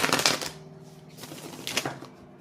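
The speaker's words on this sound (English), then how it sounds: "I'm going to shuffle again." Tarot cards being shuffled by hand, two quick riffling bursts of papery flutter separated by a brief pause, close and fairly loud with no talking.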